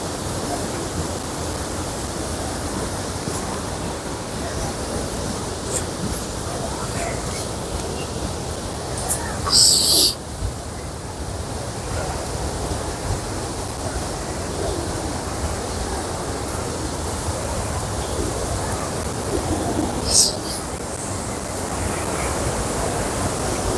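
The Attukadu waterfall in Munnar gives a constant broadband rush of falling water heard from a distance, steady throughout with a few brief sharp bursts.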